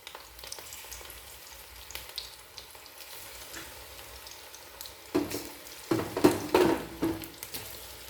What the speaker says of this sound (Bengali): এইভাবে বাকি পকোড়াগুলো ভেজে নেব